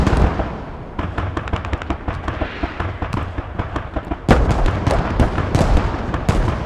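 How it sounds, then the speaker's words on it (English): Counter mortar barrage in the Squad military shooter video game: a dense, continuous stream of booming explosions and impacts, some near and loud, others further off, growing heavier partway through, with no talk. "the counter mortar barrage from the Rip is just 1 minute too late"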